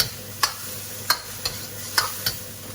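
Lamb stir-frying with dark soy sauce in a wok: a steady low sizzle broken by five sharp scraping clacks of the spatula against the wok, spaced irregularly, close and fairly loud with no talk.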